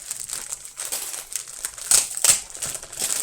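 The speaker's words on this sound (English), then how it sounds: "Sorry, I'm gonna crinkle here." Crepe paper crinkles and crumples close up in a run of crisp, irregular rustles, with two louder crunches near the middle, and no voices.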